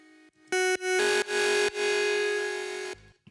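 Buzzy synthesizer tones in Ableton sound in short bursts, then two notes hold together, clashing into a gritty, distorted drone before cutting off.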